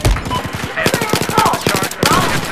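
A three-round burst rifle firing in the video game Battlefield 4, sounding as rapid, closely spaced sharp cracks in quick clusters that continue across the clip, with a voice talking over the gunfire.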